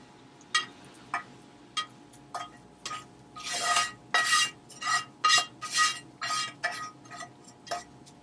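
A spoon clinks and scrapes against a pot in repeated, irregular strokes while vegetables are stirred into a simmering celery stew, the knocks growing louder and quicker midway, close and with no talk.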